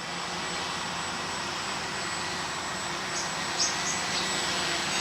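Remote-controlled aircraft hovering in place, a steady, even high-pitched whine with a constant broadband hiss, moderately loud and alone with no voices.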